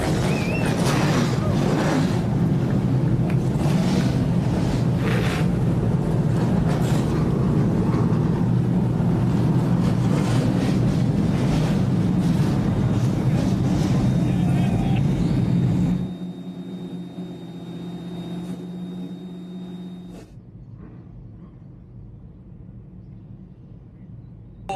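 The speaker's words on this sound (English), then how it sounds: "currently is literally rumbling with that noise of these thunderous cars" Loud, continuous engine roar from several TA2 race cars at Lime Rock Park fills most of the clip, then drops away to a quieter hum and near silence.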